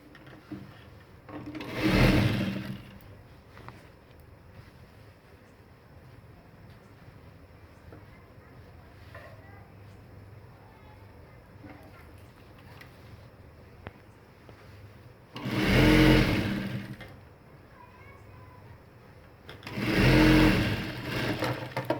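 A sewing machine stitches ladies' pants in three loud, close bursts of rapid whirring, with quiet stretches between them and a voice talking softly in the gaps.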